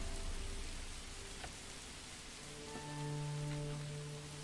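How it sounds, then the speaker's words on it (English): Steady rain falling in the medieval city-building game Manor Lords, a soft, even hiss with faint drop patter, joined partway through by sustained low tonal game music. "It's raining."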